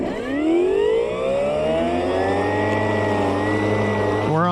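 A Milwaukee M18 battery electric lawn mower spins up with a rising motor whine that settles into a steady hum, close and loud, ending with a brief warbling sweep.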